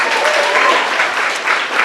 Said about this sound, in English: I want to give them a round of applause also